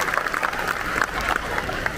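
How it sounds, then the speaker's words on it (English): Scattered applause from an audience at an Ola customer day event, moderately faint and uneven, with individual claps standing out over background crowd noise. "Big round of applause for the engineering team at Ola."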